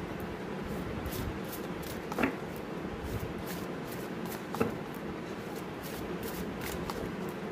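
A tarot deck is shuffled by hand before drawing a card: soft, continuous rustling of cards close by, broken by two sharper snaps, no one speaking.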